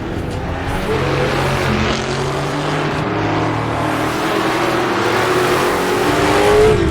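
A Cobra's engine in a racing video game on the Greenwood Roadway track drones steadily and loudly throughout, its pitch climbing toward the end as the car accelerates.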